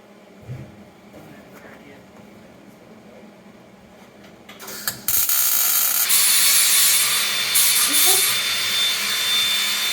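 Metal grinding on a tin floor panel for an electronics mount, a loud steady abrasive whine starting about halfway through and running continuously to the end after quieter shop noise.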